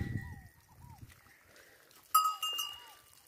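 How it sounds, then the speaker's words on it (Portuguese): A herd of goats raised in the Brazilian sertão scrub bleats at a distance. Cowbell-like clinks and brief animal calls rise louder near the end, over faint background rustle. "Aqui o rebanho da criação de bode aqui no nosso querido sertão"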